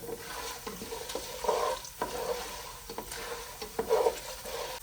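Urad dal stirred slowly in hot oil for pulihora: a continuous close sizzle with spoon scrapes and brief stirring bursts, no voices.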